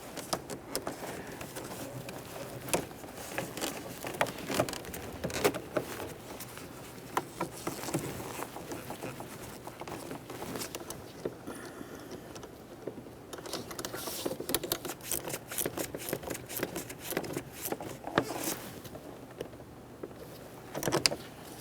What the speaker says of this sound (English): tighten our 10mm mounting nut